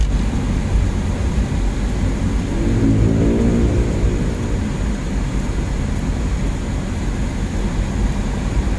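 A Toyota Altis being driven on a road test gives a steady, loud low engine and road rumble from inside the cabin, with a brief rising engine tone midway and no talk.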